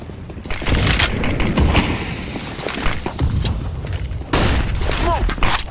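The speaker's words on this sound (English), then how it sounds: "I'm throwing a grenade." Grenade explosions and gunfire in Counter-Strike: Global Offensive, loud booms and sharp shots in irregular bursts over a busy, noisy game soundscape with voices under the action.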